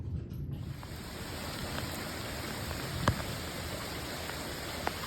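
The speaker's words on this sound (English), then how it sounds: "Enjoy the rain." Steady rain pours down during a thunderstorm, a dense even wash of noise with a couple of sharp drop or tap transients, heard alone without voices.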